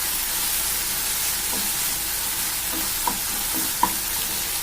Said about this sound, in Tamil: நல்லா வதக்கியாச்சு.